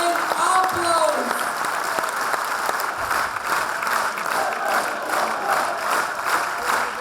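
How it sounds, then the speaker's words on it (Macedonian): Loud, sustained applause from a large crowd at a political speech rally, a steady dense roar of clapping filling the whole stretch with raised voices mixed in and no pause. "Да ги поздравиме силно со еден голем, громогласен аплауз."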